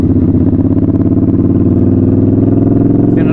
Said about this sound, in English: Very smooth gearbox, change is really nice.